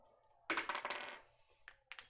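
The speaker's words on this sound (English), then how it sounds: "Stop using the metal dice." Metal dice clatter onto a table during a tabletop role-playing game, a sudden bright rattle that trails off, followed by two short clicks, heard alone.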